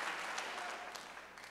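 A church congregation at a Wednesday evening service gives a round of applause, steady broadband clapping that gradually thins and softens over a second and a half.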